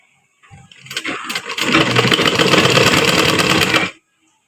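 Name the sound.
sewing machine stitching fabric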